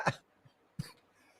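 Two short coughs, one near the start and a second just under a second later, each a sharp burst with a little rasp, from a man on a wrestling podcast; quiet room otherwise, no talk.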